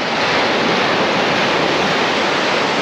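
Ocean surf at Palolem Beach in South Goa, a steady, loud, broadband wash of breaking waves that roars on without pause and with no voices.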